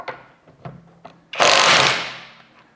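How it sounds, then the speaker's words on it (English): A cordless impact wrench set to automatic mode hammers a lug nut loose with one loud burst of roughly a second that tapers off as the tool shuts down on its own. A few faint clicks and handling knocks come before it. "as soon as that lug nut broke free and was loose from the stud, the impact wrench automatically shut down"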